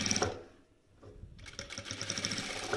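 A sewing machine stitches felt for a small chest, running close and loud in a rapid mechanical whir that stops briefly and then starts again.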